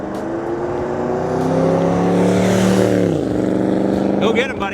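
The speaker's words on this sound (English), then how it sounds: "Here he comes, 47 Ford Super Deluxe with a 350." A 1947 Ford Super Deluxe with a 350 V8 and a TH350 three-speed automatic drives off. Its loud engine drones and builds, then the pitch drops sharply as it pulls away, and a steady rumble continues.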